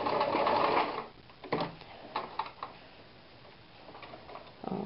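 Sewing machine stitching a buttonhole, a close, rapid mechanical ticking and whirring that runs loudly for about a second, then continues in shorter, quieter bursts with pauses between, with no speech.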